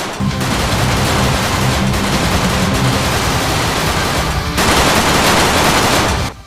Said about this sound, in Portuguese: o homem que pegava a M60 de um dos seus soldados e mete bala nos safados